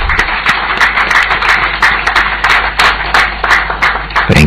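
An audience at a presidential swearing-in ceremony claps loudly and steadily, with close individual claps standing out above the crowd's continuous applause throughout.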